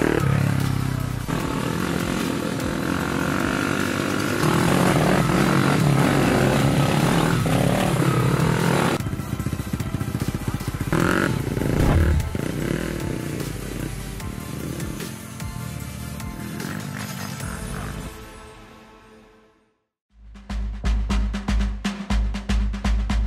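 Motorcycle engines roar loudly and without a break on a muddy rally course in Pensilvania, Caldas, revving and shifting for almost twenty seconds before the sound cuts abruptly to a different engine-like rumble.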